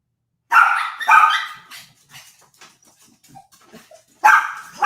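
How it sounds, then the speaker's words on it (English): Several dogs barking in loud bursts indoors, with a cluster of barks at the start, scattered softer yips and whimpers in between, and another loud round of barking at the end. "These dogs ain't gonna stop barking."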